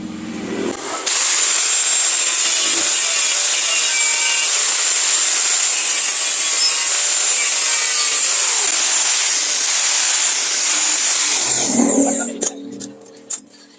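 A Vespa spoked wheel rim being cut down with a power saw to make a small 10-inch wheel for a Honda Monkey, a loud, steady, continuous grinding-saw whine lasting about eleven seconds before cutting off, followed by brief clatter.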